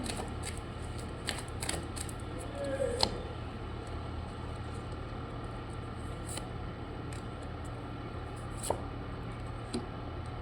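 Tarot cards shuffled by hand in a quiet room, a steady soft riffling texture with a few sharper snaps and taps, faint and close, no voices.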